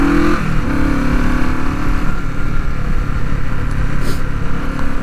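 Engine of a vintage Honda motorcycle, a steady, loud mid-pitched drone while riding, with a brief rise in pitch near the start as it revs up.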